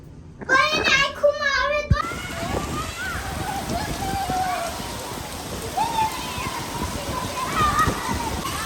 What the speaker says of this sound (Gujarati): ફૂલ વરસાદ પડે છે અને એમાંય નાવાની મોજ